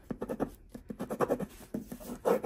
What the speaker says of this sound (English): I'm just gonna scribble